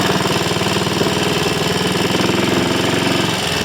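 A Triumph Scrambles Cub replica motorcycle engine runs steadily at a fast, even putter, loud and close with a constant rhythmic chug and no voices throughout.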